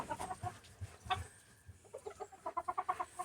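Chickens clucking close by in a rapid series of calls, with a rooster's voice among them.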